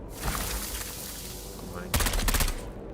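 A mine blast in the video game Dune Awakening, a sharp loud burst of crackling explosive noise about two-thirds through, following a stretch of rattling combat noise, with no talking over it.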